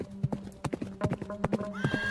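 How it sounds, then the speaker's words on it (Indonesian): A horse's hooves clip-clop in an uneven rhythm, with several short neighs and snorts breaking in near the end, fairly close and clear. "ada suara kuda."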